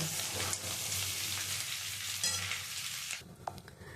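Potatoes for Kashmiri aloo dum frying in hot oil, a loud steady broadband sizzle that fills most of the clip before dropping abruptly near the end, followed by a few faint clinks and stirring sounds.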